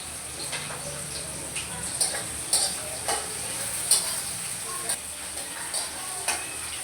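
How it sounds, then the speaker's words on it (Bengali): Sliced onions with a pinch of salt sizzle in hot oil in a pan, a steady hiss broken by repeated clinks and scrapes of a spatula stirring them. "তো পেঁয়াজ ভাজাতে আমি আগে লবণ দিয়ে দিই, তাহলে তাড়াতাড়ি ভাজা হয়ে যাবে।"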